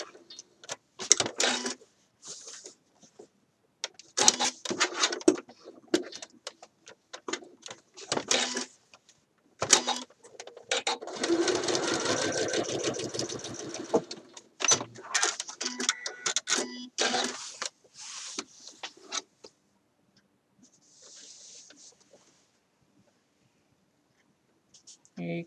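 A sewing machine stitches a Simplicity 8014 shirt dress in short bursts of rapid mechanical whirring, with one longer continuous run in the middle, stops between, and a voice talking over parts.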